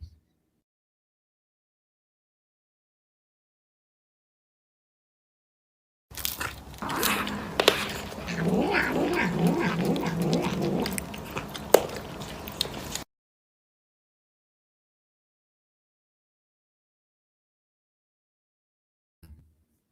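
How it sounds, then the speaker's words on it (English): A cat eats for several seconds, close-up wet chewing and crunching, framed by long stretches of silence. "something really soothing about watching and hearing the cat nosh"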